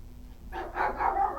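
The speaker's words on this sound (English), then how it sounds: "whoops, we have a dog here" A single short dog bark or yip rings out close by in a quiet indoor room, brief and moderately loud.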